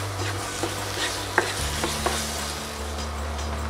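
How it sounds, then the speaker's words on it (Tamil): Brinjal curry masala being sautéed and stirred in a pan for biryani brinjal curry, a steady close sizzle with a few sharp scrapes of the spoon against the pan, no voices. "நல்லா வதக்கிக்கோங்க."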